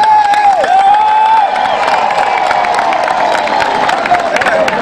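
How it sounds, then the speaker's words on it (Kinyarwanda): A large football crowd at Gisagara's home ground cheers, whoops and claps for Gisagara FC after their win over Mukura VSL, a loud, steady roar filling the whole stretch with shouts rising above it. "munize amashyi dushimire ikipe yatsinze"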